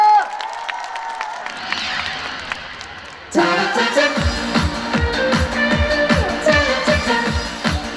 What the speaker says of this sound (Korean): 서진이한테 박수 보내주세요